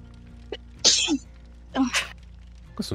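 Two close, loud sneezes burst out a second apart, each sharp and breathy, with quiet background and a short vocal sound at the end.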